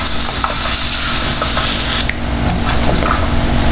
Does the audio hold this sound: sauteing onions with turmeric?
yes